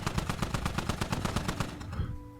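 A giant mounted heavy machine gun in the video game Squad fires a rapid, steady burst of about fifteen evenly spaced loud shots, then stops abruptly, leaving a brief ringing tail.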